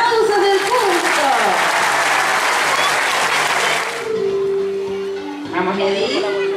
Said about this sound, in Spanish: Los fuertes aplausos del público.